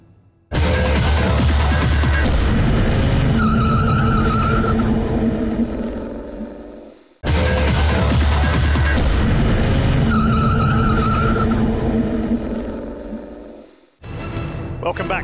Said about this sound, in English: Join us for more stock car racing after this short break.